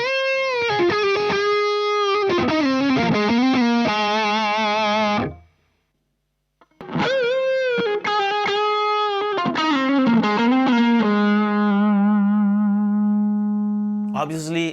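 Electric guitar lead lines played through a Boss IR-2 amp simulator, a sustained, gain-laden melodic tone with bends and held notes, loud and close, stopping briefly after five seconds before resuming and ending on a long held note.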